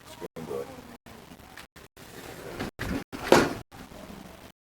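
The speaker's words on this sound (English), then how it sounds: "Close the screen door." A screen door swings shut with a sharp clack, set among scattered room noise and a person talking nearby.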